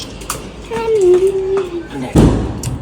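A firecracker goes off during a family birthday celebration at home: one sharp, loud, close bang near the end, following a steady tone and background chatter.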